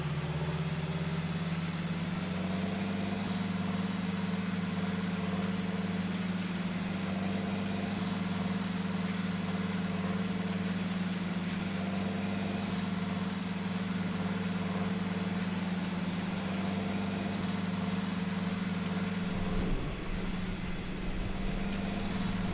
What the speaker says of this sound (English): My tractor's going crazy out here.